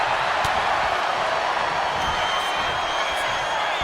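A virtual crowd cheers in a WWE 2K25 wrestling match, a broad, steady roar of voices with a few sharp pops, filling the arena at moderate loudness.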